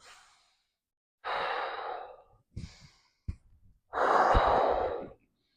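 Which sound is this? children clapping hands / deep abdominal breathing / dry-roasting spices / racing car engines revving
deep abdominal breathing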